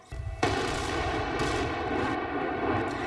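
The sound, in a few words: controlled blasting explosion of a landslide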